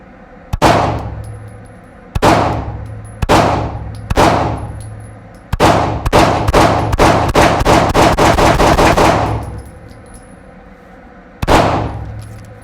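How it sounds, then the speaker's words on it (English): Shots from a ZEV OZ9C pistol during a test-fire session crack out loud and close: several single shots spaced a second or so apart, then a rapid string of fast shots, a pause, and one final shot. "I'm just gonna do a couple of rounds and experiment a little bit and just see how it overall feels"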